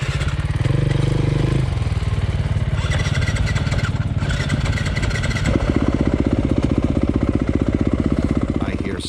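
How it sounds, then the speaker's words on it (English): A 2021 Yamaha YZ250FX dirt bike with a hard-starting problem cranks and sputters close by, loud and uneven, then catches into a steady rapid engine chatter; no one speaks. "I was hoping this bike would not have hard starting issues,"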